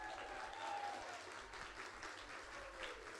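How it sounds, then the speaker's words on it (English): A luncheon audience at a Mother's Day event gives a round of applause, a steady wash of clapping heard at a distance and fairly quiet, without speech. "can we also get a round of applause for that beautiful music"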